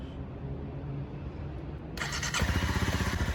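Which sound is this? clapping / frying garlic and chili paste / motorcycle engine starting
motorcycle engine starting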